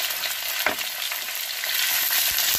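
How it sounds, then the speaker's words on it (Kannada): Green chillies and onion frying in a pan for tomato gojju chitranna, a steady loud sizzle with a few soft scraping stirs, close up and with no voices. "ಈಗ ನಾನು ಹಸಿರು ಮೆಣಸಿನ್ಕಾಯಿ ಮತ್ತು ಈರುಳ್ಳಿನ ಹಾಕ್ತಾ ಇದ್ದೀನಿ."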